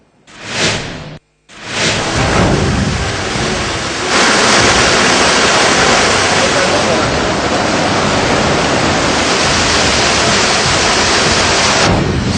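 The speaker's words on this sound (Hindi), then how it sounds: "सड़क से पानी ओवरफ्लो हो रहा है। नीचे लहरें उफान पर हैं।" Floodwater overflowing a road in Rajasthan, with surging waves making a loud, continuous rushing roar close by after a brief gap near the start.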